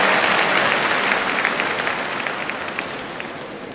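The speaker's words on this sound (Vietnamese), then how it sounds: "let's give a round of applause to Reverend Graham" An audience applauds to welcome Reverend Graham at a festival in Hanoi, a dense, steady crowd clapping that fades slightly toward the end.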